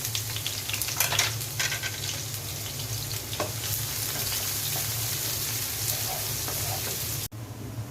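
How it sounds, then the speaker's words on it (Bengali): Chopped onions sizzle in hot oil as the base for Maggi noodles with egg. The frying hiss is loud, close and continuous, with a few stirring crackles, and stops abruptly near the end. "তেলের মধ্যে পেঁয়াজ দিয়ে দিচ্ছি।"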